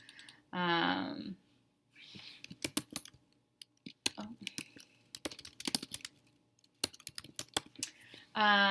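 Rapid clicking of keys on a computer keyboard in irregular bursts, close and fairly quiet, with a few brief voiced sounds at the start and end.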